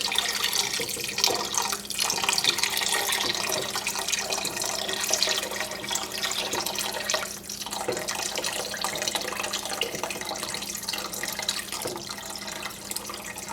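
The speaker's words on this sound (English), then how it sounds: "We're going to add our water now." Water is poured steadily into a mixture being whisked in a kitchen. The liquid splashes and trickles continuously for several seconds at moderate volume, with no talk over it.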